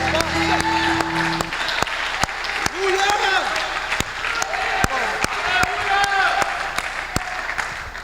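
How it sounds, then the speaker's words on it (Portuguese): Congregation at a Pentecostal revival service claps in a regular rhythm of distinct, evenly spaced claps, while a preacher's amplified voice and the crowd's voices carry on over it. "aplauda comigo o nome de Jesus."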